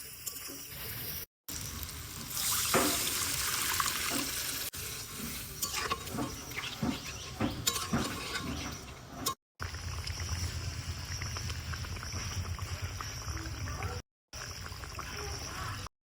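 Water goes into a simmering egg curry cooking on a clay stove, giving a soft splashing and sizzling that settles into a steady low bubbling, with brief silent gaps.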